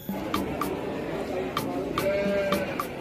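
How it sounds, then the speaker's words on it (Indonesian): Garut sheep bleat several times in short, wavering calls over a steady background murmur, fairly close by. "ini ternyata si kambing domba Garut."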